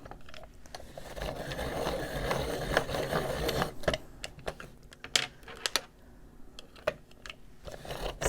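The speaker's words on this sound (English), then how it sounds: "Gonna sharpen these up." Colored pencils being sharpened for coloring a page, a steady close grinding whir with short bursts and clicks as each pencil is turned and swapped.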